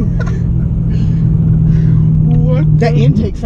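A BMW E92 M3 with a manual gearbox makes a steady low intake and engine drone while driving, heard close from inside the car with people talking over it.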